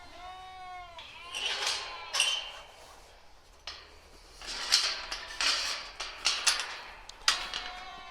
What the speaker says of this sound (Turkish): koyunlar kuzular var içeride